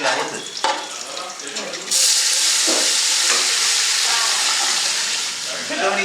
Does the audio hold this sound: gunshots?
no